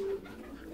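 A pigeon coos once, a short, soft, low call that is close and quiet and fades into faint background noise.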